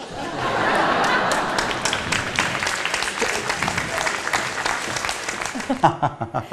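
A studio cabaret audience bursts into sustained applause after a comedy duo's sketch joke; dense, even clapping swells, holds steady for several seconds, then tapers off near the end.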